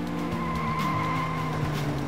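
A Subaru Impreza rally car in Colin McRae Rally 2.0 skids with sustained tire squeal layered over a steady engine drone, close and continuous throughout.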